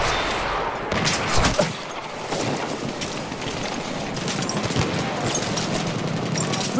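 Dense, continuous machine-gun fire in a Battlefield 1 battle, rapid bursts and overlapping distant shots merging into a steady roar throughout, with no speech.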